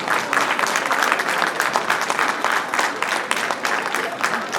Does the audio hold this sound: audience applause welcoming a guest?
yes